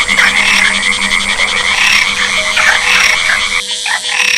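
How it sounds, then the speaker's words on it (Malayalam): Bullfrogs croaking loudly in flooded paddy fields with rice plants, a dense, close chorus of rapid, overlapping pulsing calls that thins briefly near the end. "പൊന്തൻ തവളകളുടെ നാദസ്വരം ഉയർന്നു കേൾക്കാം"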